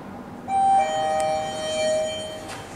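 Arrival chime of an OTIS Gen 2 MRL traction lift at a shopping centre: a clear electronic two-tone ding with a bright higher note then a lower one, fairly close in a quiet lobby.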